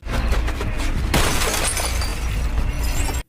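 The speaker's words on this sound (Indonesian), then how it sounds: "Dengan terpaksa Pedro menghancurkan kaca mobil tersebut." A car window is smashed in the 2023 horror film When Evil Lurks: a sudden, loud crash of shattering glass bursts in about a second in, then a harsh crackling spray lingers until an abrupt cutoff.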